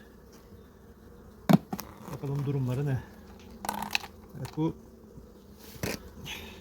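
Honeybees hum around an opened hive during a spring colony inspection, a low steady buzz under someone speaking Turkish, with a few sharp clicks and knocks from handling the hive frames.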